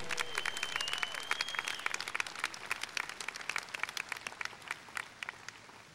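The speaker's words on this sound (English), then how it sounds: "One more round of applause for the 2011 Metropolitan Council." Crowd applause for the 2011 Metropolitan Council at a mayor's inauguration ceremony, a dense, sustained clapping from many people in a hall that gradually thins toward the end.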